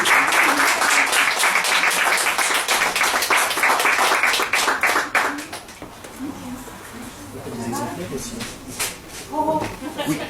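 An audience applauds the actors after a theatre reading, with dense, loud clapping for about five seconds that then thins out as people begin talking and chuckling.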